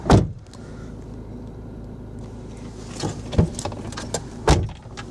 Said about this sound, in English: Electric windows in the front of the car